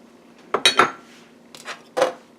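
A spoon clatters and scrapes around a bowl in short bursts, stirring light brown sugar together with chopped pecans for a pumpkin dump cake; close and clear, with no talking.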